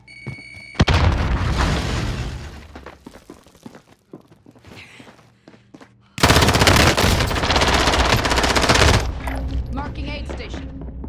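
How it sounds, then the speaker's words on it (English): A grenade explosion and gunfire in the video game Call of Duty Warzone, with loud bursts of automatic fire, a heavy boom, then a sustained dense volley of shots and rumble. "Throwing grenade!"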